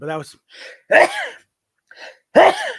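A person indoors lets out a sharp, close sneeze between snatches of someone talking, with a second abrupt burst following after a short quiet gap.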